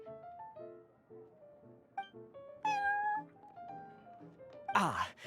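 Prince the cat in the Genshin Impact video game gives a string of short, close meows of varying pitch, ending in a sharper, louder meow.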